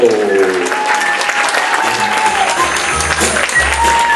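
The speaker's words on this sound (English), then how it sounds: "Let's keep that round of applause going for our actors" Loud, sustained applause from a large audience, steady clapping filling the room with no pauses.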